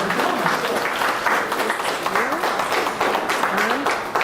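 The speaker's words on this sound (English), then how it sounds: "please give him a warm round of applause" An audience at a submarine veterans' gathering in Joliet, Illinois claps in a warm, continuous round of applause, with voices talking over the clapping.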